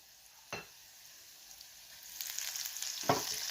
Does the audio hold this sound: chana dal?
yes